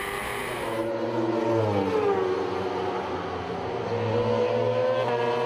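Racing sidecars roar loudly and continuously around the Hungaroring during a 2012 FIM Sidecar World Championship race, engines revving and shifting in pitch as the machines battle closely, with no talk.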